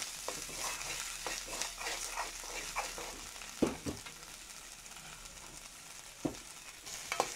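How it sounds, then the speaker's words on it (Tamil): Ginger garlic paste sautéing in oil for a chicken pizza, a steady close sizzle broken by several sharp scraping stirs of a spatula in the pan. "இஞ்சி பூண்டு பேஸ்ட்டை சேர்த்து கொஞ்சம் நல்லா வதக்கிக்கலாம்."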